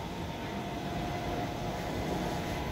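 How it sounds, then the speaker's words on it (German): A long S-Bahn commuter train rumbles past as a steady, fairly quiet wash of rail noise with a faint tonal hum and no voices. "Lange S-Bahn."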